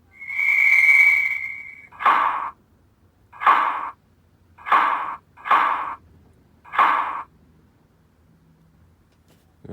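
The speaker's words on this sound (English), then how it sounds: "F23 is the guard whistle coach door slam." A model train's sound decoder plays a sharp, steady guard whistle blast, then five short thudding coach door slams in a loose sequence, each clear and close with quiet gaps between.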